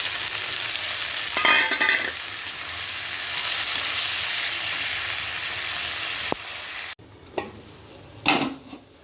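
Chopped tomatoes go into a pan of frying fish curry with a loud, steady hiss of oil sizzling close up. The sizzle drops off abruptly, then a few stirring scrapes and clinks follow.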